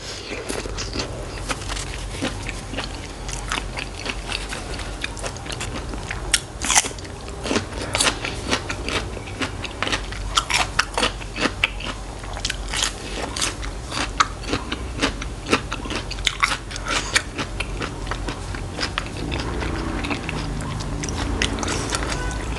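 Raw giant lobster being bitten and chewed close up, with steady crunchy, crackling bites and wet chewing repeating throughout and no talk over it.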